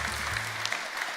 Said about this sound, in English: let us give her a big applause